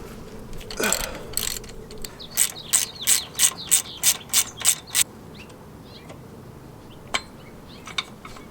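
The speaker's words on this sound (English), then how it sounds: "We're going to be loosening the bolt on the actual pulley and then loosening this bolt to move that pulley out of the way" A ratchet wrench loosens a bolt on an engine drive belt pulley of a Toyota 22RE, giving a close, loud series of about nine quick ratcheting clicks in an even rhythm, with a few scattered metal taps after.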